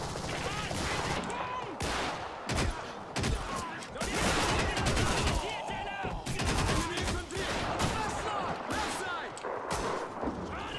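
Suppressed Tommy gun firing in Call of Duty 2, a modded multiplayer match: rapid bursts of muffled shots repeat through the whole stretch, mixed with other battlefield gunfire and thumps, with a player talking over the fighting.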